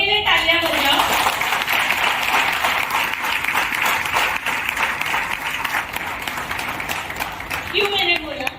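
Loud, sustained applause from a crowd, dense clapping that holds steady for several seconds with a voice briefly audible at the start and end.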